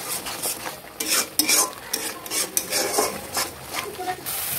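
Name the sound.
stir-frying spice masala in a pan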